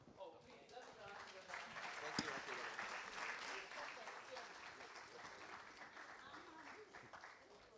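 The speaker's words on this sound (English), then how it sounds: "a round of applause for our panelists" Steady applause from a seated audience greeting a business panel's speakers, dense clapping sustained for several seconds at moderate distance with a single sharp clap standing out.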